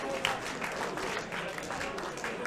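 A live crowd at a professional wrestling match in Newcastle claps and cheers in a steady, fairly distant wash, with a commentator talking over it.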